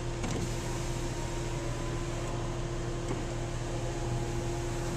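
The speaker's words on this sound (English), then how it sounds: "Along with your automatic windows." Steady electric motor whine of the automatic power windows on a 2006 VW Beetle, a continuous hum with a faint click near the start, running alone at moderate loudness.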